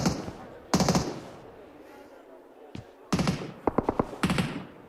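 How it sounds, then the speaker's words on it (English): Bursts of PUBG Mobile gunfire during an esports grand final: several short rapid volleys of shots with quieter gaps between, sharp and fairly close, ending in a cluster of quick cracks. "There's been bullets whizzing through the windows for a while."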